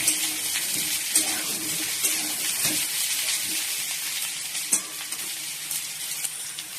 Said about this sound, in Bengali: আলুগুলো ভাজছি।